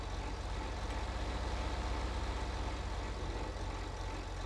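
Heavy truck engine in Farming Simulator 25, a steady low droning note running throughout at moderate level with no talk over it.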